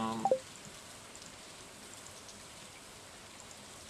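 Soft, steady rain patter in the video game Stardew Valley fills the background after a couple of brief electronic blips at the start, with no voices.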